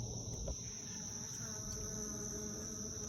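Bees hum steadily around the entrance of a Layens swarm trap hive outdoors, a continuous faint insect drone with no voices.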